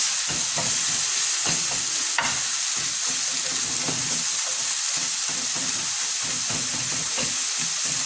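Onions and other ingredients sauté over high heat for a beef coconut roast, a loud steady hiss of frying with frequent scraping stir strokes and one sharp clink, heard close and alone.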